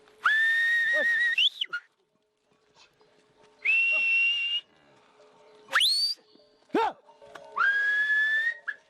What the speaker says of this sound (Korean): 야크와 쩌우리를 이끄는 건 목동의 휘파람 소리입니다.